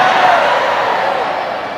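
A large sermon audience breaks into a dense, steady wash of clapping that stays loud and close for about two seconds, gradually easing off toward the end.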